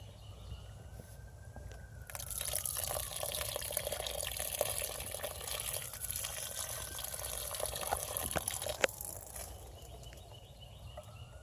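Water pours steadily onto a cherry tomato plant in a Gro Bucket, a continuous soft splashing rush that starts after a quiet moment and stops near the end, moderately faint with no talking.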